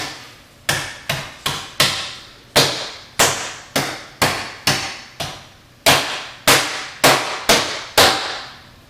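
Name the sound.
banging on a big ball of stromboli dough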